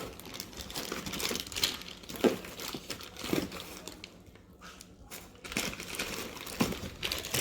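Crinkling and rustling of packaging as a blow off valve for a 2JZ-GE Toyota Supra turbo build is unwrapped, with irregular close crunches and tearing bursts and a brief quieter pause midway.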